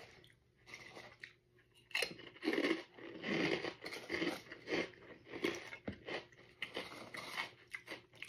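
Crunchy prawn crackers from the Philippines being bitten and chewed close up, a run of loud crisp crunches and crackles.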